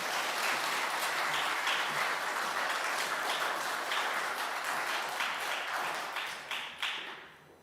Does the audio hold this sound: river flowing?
no